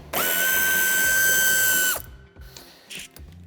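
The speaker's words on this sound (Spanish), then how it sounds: "quitamos el tornillo que sujeta el paragolpes de cabeza de 8" A ratchet or power driver backs out an 8 mm bumper screw on a 2015-2024 Mini Clubman F54, one loud, steady whirring burst of almost two seconds, then faint small clicks and handling noises.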